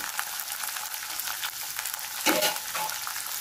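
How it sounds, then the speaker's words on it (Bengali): Chickpeas being stirred in a pan while cooking kochur shak, a steady soft sizzle with a louder scraping stir near the end. "ছোলা দিয়ে আস্তে আস্তে করে একটু নাড়বো।"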